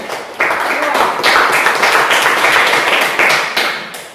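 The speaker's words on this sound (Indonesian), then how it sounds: "tepuk tangan untuk kelompok 2" Group of people clapping for a small class group in a teacher-training session, a dense, steady patter of many hands lasting several seconds, fairly loud and close, with some chatter mixed in.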